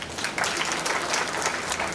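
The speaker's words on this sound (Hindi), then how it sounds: "और जिन पेरेंट्स ने हाथ नहीं उठाया ना, उन पेरेंट्स के लिए एक ज़ोरदार तालियां" Dense, loud applause from parents in a preschool audience, a continuous wash of many hands clapping together with no pauses.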